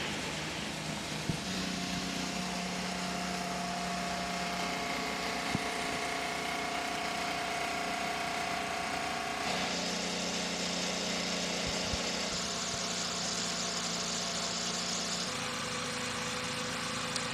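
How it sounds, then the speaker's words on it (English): IndyCar race car engines at the Chevrolet Detroit Grand Prix on a 1.6-mile street circuit, a dense, steady engine drone of many cars idling together, loud and continuous with shifting tonal layers and no talk over it. "drivers, start your engines. Command has been given."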